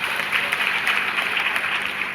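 Audience at a Sai temple discourse clapping together, a dense, even burst of applause close by that carries on steadily without speech.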